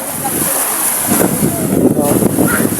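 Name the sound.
strong wind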